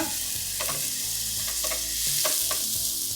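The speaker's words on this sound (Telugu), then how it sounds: "ఈ ఉల్లిపాయలు రంగు వచ్చిన తర్వాత ఇందులో మనం మిగతా అల్లం వెల్లుల్లి పేస్ట్ మిగతా అవన్నీ వేసి కుక్ చేసుకుందాం" Onions frying with ginger garlic paste in a pan for a Kaju Mushroom Malai Curry give a steady loud sizzle, with the soft scrape of stirring repeating throughout and no voices.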